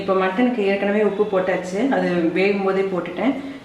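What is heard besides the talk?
No everyday noises stand out.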